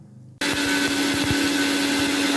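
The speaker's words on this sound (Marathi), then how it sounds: "थंड झाल्यानंतर मिक्सरच्या पॉटमध्ये टाकायचं आणि आपल्याला बारीकशी अशी पूड करून घ्यायची आहे" A mixer grinder starts abruptly after a moment of quiet and roars steadily, whirring loudly up close as it grinds cooled roasted spices such as coriander seeds into a fine powder for amla pickle.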